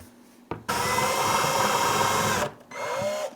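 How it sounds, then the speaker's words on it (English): A power drill bores a hole through a plastic bucket lid for a DIY water filter, one loud sustained whine of about two seconds, followed by a brief quieter spin-down. "I want to drill these 2 holes down in there"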